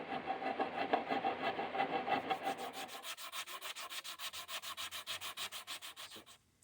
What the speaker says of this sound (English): Let's get to this sanding. I've been doing it all day.